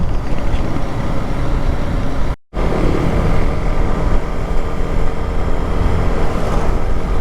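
A Yamaha Sniper 155 six-speed motorcycle on a break-in ride, its engine droning steadily with heavy wind roar, loud and continuous apart from a brief dropout partway through.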